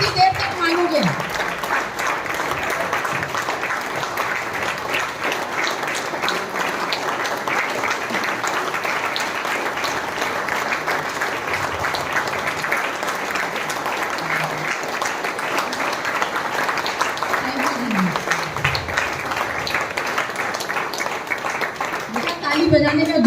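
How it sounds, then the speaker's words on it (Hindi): A church congregation claps hands vigorously and continuously for over twenty seconds during a Hindi sermon, a dense, loud wash of clapping while a preacher's voice carries on over it. "ताली बजाने का जोर समझ में आया"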